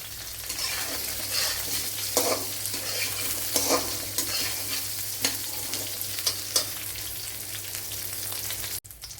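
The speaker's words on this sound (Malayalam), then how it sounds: "ഇത്രയൊന്ന് വഴറ്റിയെടുക്കണം. ഇതിലേക്ക് ഒരു 3-4 വറ്റൽമുളക് കട്ട് ചെയ്തെടുത്തിട്ടുണ്ട്, അത് ഇട്ട് കൊടുക്കാം." Three or four cut dried red chillies sautéing in a pan for an egg masala, a steady hissing sizzle broken by repeated scraping stirs, close and fairly loud, ending with a brief knock.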